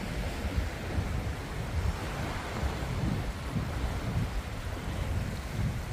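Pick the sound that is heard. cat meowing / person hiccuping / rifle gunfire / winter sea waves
winter sea waves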